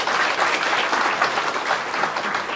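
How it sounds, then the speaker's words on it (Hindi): Audience applause at a Road Safety Week closing ceremony in Mira Bhayander, a dense, steady clapping from a large crowd filling the whole moment without a break. "जोरदार एक बार ताली आप बजाइए"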